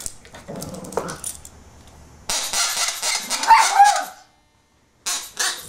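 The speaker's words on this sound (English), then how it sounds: "I gotta get my chicken." A pet chicken clucks and squawks in short bursts, close by and fairly loud, with a gap of silence before a final couple of calls.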